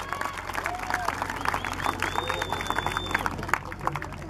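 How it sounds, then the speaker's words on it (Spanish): Crowd applauding children at a community festival event, a soft, fairly distant patter of clapping mixed with murmuring voices and a few whistles. "Nuevamente un fuerte aplauso para los chicos, ¿eh?"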